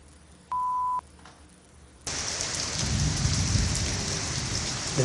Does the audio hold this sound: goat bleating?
no